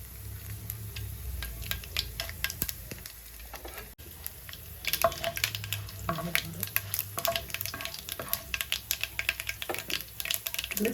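Urad dal, chana dal, mustard seeds and two dried red chillies sizzle and crackle in hot oil for a tempering, with quiet irregular pops and spatters and a faint stirring scrape throughout.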